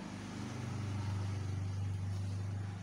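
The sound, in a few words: motorbike passing by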